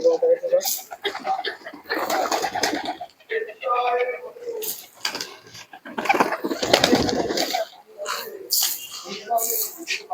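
Pigeons for sale cooing and chortling nearby in soft, throaty bursts, mixed in among people talking close by.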